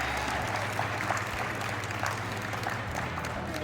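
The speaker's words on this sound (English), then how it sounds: "give everybody a round of applause for helping out with that tonight" A round of applause from a gathering at a basketball team event thanking the graduating class, dense steady clapping throughout over a low background hum, moderately distant.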